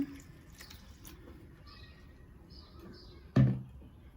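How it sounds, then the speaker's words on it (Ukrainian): Water is poured onto a potted Phalaenopsis orchid, a steady soft trickle and splash running throughout with one brief louder splash near the end; no one speaks. "Налю водички"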